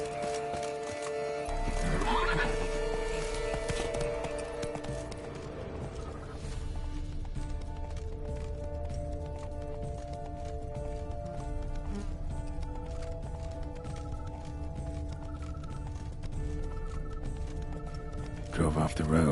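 A horse whinnies loudly near the start, then hooves clip-clop at a steady rhythm under a game's ambient music and wind, with a voice speaking; the horse comes from the video game The Witcher 3: Blood and Wine.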